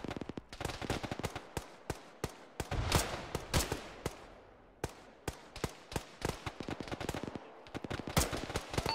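Machine gun fire in the Arma military shooter rattles in rapid, uneven bursts of sharp reports, some close and loud, others softer, continuing almost without pause.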